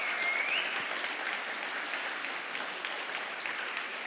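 Steady applause from an audience at an award show, even dense clapping held at a moderate level with a short whistle near the start.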